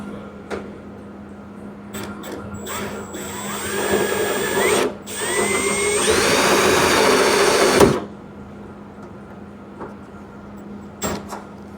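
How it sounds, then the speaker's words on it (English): A power drill bores out spot welds on the door of a 1973 Ford F100, whirring in bursts that rise in pitch as the bit spins up, loud and close with short pauses between. "Find me a drill."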